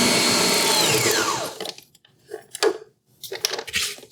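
A Kitchen in the Box stand mixer creams snickerdoodle blondie dough, its motor whine winding down and stopping. Short metallic clinks and scraping against the bowl follow in bursts.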